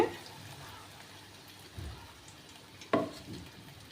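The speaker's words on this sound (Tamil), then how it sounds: "எண்ணெய் லைட்டாக ஓரத்தில் கொதிக்கு பார்த்தீங்களா" Hair oil bubbles quietly in a pan over a low flame with a soft, steady sizzle, broken by a couple of scraping stirs and a sharp clink.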